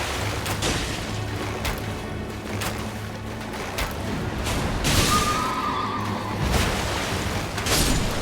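A horse neighs in the video game Elden Ring Nightreign, with a clear whinny amid battle effects, hoof clops and booming impacts, all loud and busy.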